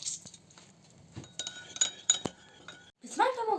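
A utensil clinks and scrapes against a bowl while a warm liver and orange salad is mixed, with a few sharp light taps and soft stirring, quiet and close, a voice briefly at the end.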